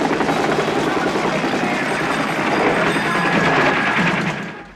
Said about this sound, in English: Yeah, of course it's helicopters.